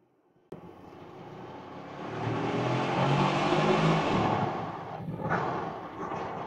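A 2025 Bentley Continental GT engine swells steadily as it accelerates with the window lowered, its deep roar building to a broad peak, then briefly dipping and surging again as it downshifts on the paddles, heard close and loud.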